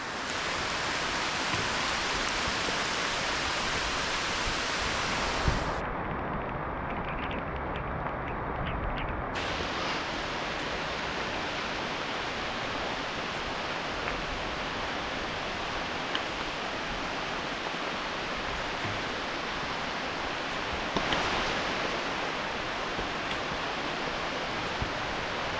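Heavy rain falls in the woods of Asbury Woods near Walnut Creek in Erie, Pennsylvania, making a dense, constant close hiss of drops with a few brief bumps from handling.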